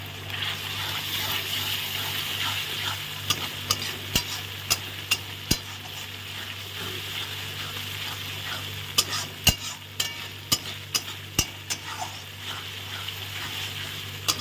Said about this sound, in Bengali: বাটা দিয়ে এখন ভালো করে কষিয়ে নিই।